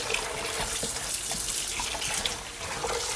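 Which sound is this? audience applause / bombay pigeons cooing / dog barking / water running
water running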